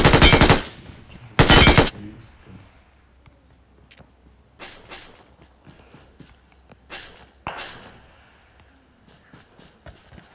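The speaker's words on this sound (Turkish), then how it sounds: "Şu anda çatışma çıkıyor orada." Gunfire in a video game firefight: two loud, sustained automatic bursts open the scene, followed by scattered single shots and softer footstep-like thuds at mid distance.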